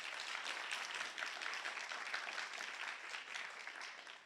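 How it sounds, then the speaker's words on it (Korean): Audience at a university chapel service applauding the board chairman, a faint, steady, dense patter of many hands clapping throughout, heard from a distance with no voices. "그동안 함께해 주신 이사장님께 감사의 인사로 큰 박수"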